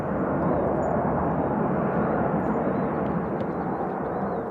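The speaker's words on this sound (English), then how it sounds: "We got Delta Airlines coming in from Boston." A Delta Airlines jet coming in from Boston to land on runway 2 left at Nashville International Airport makes a loud, steady, broadband engine roar that holds without pause.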